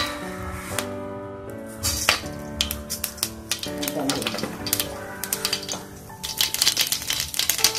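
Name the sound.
mustard seeds spluttering in hot oil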